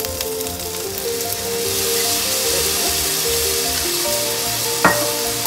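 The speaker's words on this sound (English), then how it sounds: "A tablespoon of butter, just let it melt" Butter sizzles and crackles steadily in a hot pan, a loud continuous hiss that holds throughout with one brief sharper pop near the end; nobody speaks.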